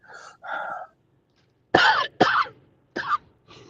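Several sharp coughs and throat-clearing bursts come close into a microphone, loud and abrupt, with short silent gaps between them.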